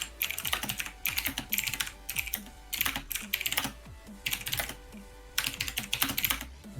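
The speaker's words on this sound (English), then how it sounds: "I'm just focused on what I'm typing." Rapid typing on a computer keyboard, close and quiet, in bursts of clattering keystrokes separated by short pauses.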